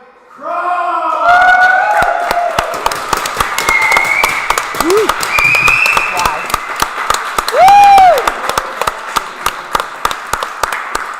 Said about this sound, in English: Huge round of applause for our new Standard League champion, Crow!